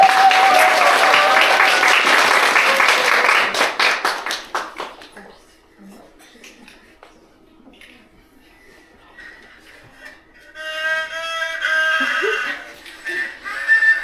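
An audience at a Lunar New Year party for Russian high school and university students claps loudly for several seconds and then fades out, followed by quiet and then a voice speaking near the end.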